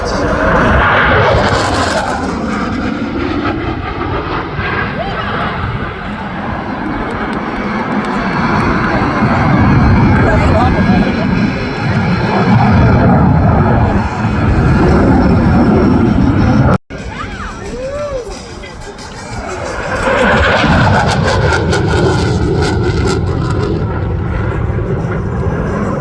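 A CF-18 Hornet fighter jet roars past at an air show, a loud sustained engine rush with rising and falling sweeps as it passes, a brief cut midway, then another swelling pass.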